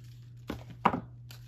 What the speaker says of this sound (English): And I'm going to trim this tab.